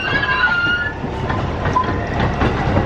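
A roller coaster train at Blackpool Pleasure Beach rumbles along its track with steady clattering wheel noise and a faint high squeal, fairly loud and continuous, with no talking.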